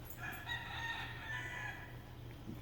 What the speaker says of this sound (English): the neighbor's chickens are starting to crow